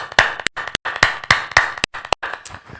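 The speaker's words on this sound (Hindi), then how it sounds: "एक अच्छी ताली के साथ हम परमेश्वर को धन्यवाद देंगे" A small online church group claps in thanks to God, sharp close hand claps landing in an uneven burst of about a dozen strikes with short gaps between them.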